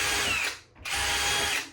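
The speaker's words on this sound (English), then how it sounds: "Then I'm going to countersink it first." Power drill countersinking a screw hole in reclaimed beadboard wood, two short loud whirring bursts separated by a brief pause, close up with no talking.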